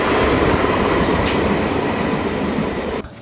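A London Underground A62 stock train passes close by with a loud, steady rumbling roar and a brief high squeal, cutting off sharply at the end.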